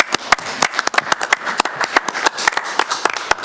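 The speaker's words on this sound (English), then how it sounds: "I think that's perhaps the most we've ever clapped in this room." Steady clapping from a group in a city commission meeting room, sharp hand claps packed closely together in an uneven rhythm, fairly near and without any talk over it.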